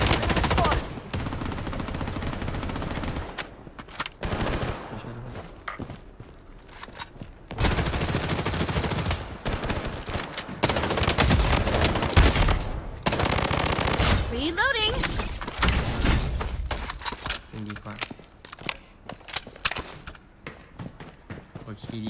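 Gunfire in the shooter game Blood Strike, with rapid automatic bursts and heavy shots going off in dense clusters, loud and continuous, under a voice talking.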